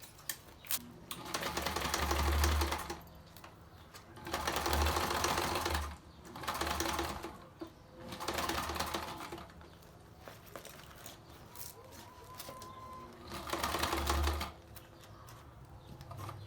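Sewing machine stitching a clear vinyl face mask with Velcro, running in several short bursts of rapid stitching separated by quiet pauses, fairly soft and close.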